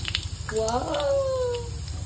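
Mustard seeds, cumin and curry leaves hit hot oil for poha, giving a soft sizzle under a low background hum, with a brief whistling tone rising over it.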